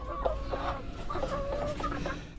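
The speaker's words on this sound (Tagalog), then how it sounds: "Yung aking mga manok, mga alagang manok." Several chickens cluck and murmur close by, overlapping in short bursts against a low background rumble.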